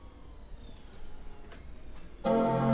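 A white plastic 2006 17-inch iMac Core2Duo powers on. After a few seconds of faint fan hiss and a couple of soft clicks, its loud, sustained startup chime rings out clearly near the end.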